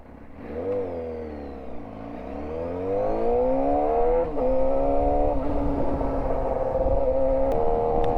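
A rebuilt Suzuki GSX-R 600 sport motorcycle revs hard and close, its engine note dipping and then climbing through the gears in rising sweeps, loud and steady throughout with no talking.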